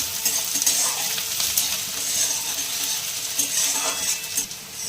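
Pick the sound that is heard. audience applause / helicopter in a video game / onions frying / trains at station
onions frying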